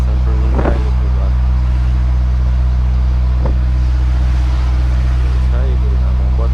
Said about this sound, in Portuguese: Vamos botar pra acelerar o carro.